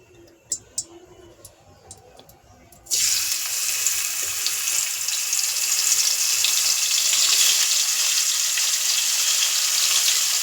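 Fish pieces dropped into hot oil for a home-style Bengali fish recipe: a few faint clinks give way to a sudden, loud, steady broadband sizzle that holds up close for the rest of the clip.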